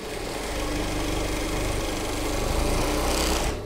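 A machine cuts a zigzag crocodile-teeth edge with a steady, loud, close motorized buzz and a fast rapid chatter throughout, cutting off abruptly at the end.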